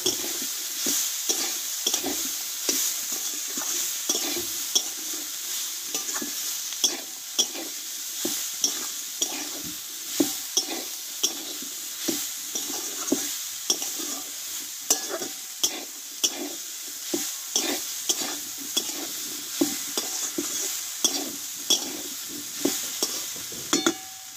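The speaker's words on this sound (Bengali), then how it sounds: "এই মশলার সঙ্গে ভালোভাবে এঁচোড়টা আমি কষতে থাকবো কিছুক্ষণের জন্য আবারও" Green jackfruit pieces stir-fried with spices in a pan, steady sizzling throughout with rhythmic scraping and tapping of a spatula against the pan, close and continuous with no talking.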